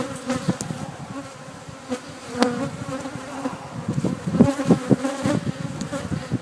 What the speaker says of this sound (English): Bees have gotten a little punchy with all the work we've done with them.